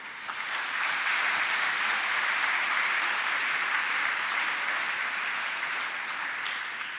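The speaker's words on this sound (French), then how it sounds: "Je vous demande de les applaudir chaudement." A church congregation breaks into warm applause, a thick, steady wash of many hands clapping that swells quickly and holds evenly for several seconds at moderate loudness.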